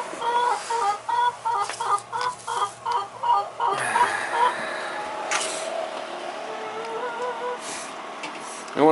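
Chickens in a coop cluck in a rhythmic run of repeated calls, then break into scattered squawks and softer clucking; the birds sound close, with no voices.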